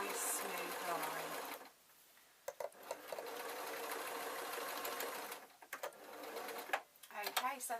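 A sewing machine runs in steady stretches while sewing suit trousers, with a pause and a few clicks between runs and a person talking near the end.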